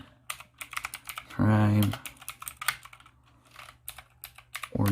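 Computer keyboard typing heard as quick, sparse clicks during online shopping, with a person talking over them and a brief loud tonal hum in the middle.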